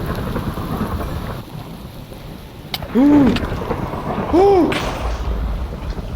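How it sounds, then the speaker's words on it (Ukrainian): Thunderstorm with steady rain in a zombie survival video game, a constant hiss of rainfall with two short louder thunder rumbles, plus brief tonal game effects over the downpour. "на світанку почався дощ із грозой"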